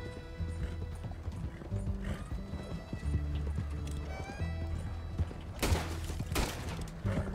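Horse hooves clip-clop steadily at a gallop in Red Dead Redemption II, layered over a low game soundtrack, with a horse whinnying and bursts of gunfire near the end.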